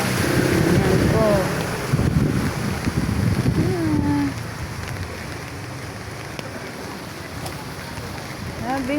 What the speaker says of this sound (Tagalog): Bahang-baha na uli po dito sa kalsada sa amin.